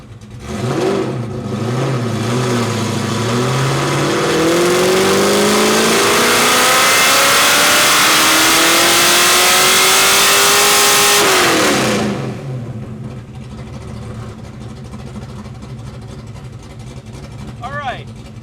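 A Foxbody Mustang engine on a dyno revs up in a long, loud pull with rising pitch, then drops back to a rumbling idle; a person speaks near the end.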